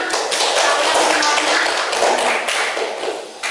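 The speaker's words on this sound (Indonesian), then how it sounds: "tepuk tangan untuk semuanya" A classroom of students gives a round of applause for the discussion groups, a dense, continuous patter of many hands clapping close by with steady loudness throughout, a few voices mixed in.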